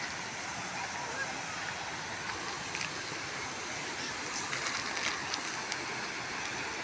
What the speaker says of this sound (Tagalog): naririnig natin yung ano ng tubig. Yung daloy ng tubig.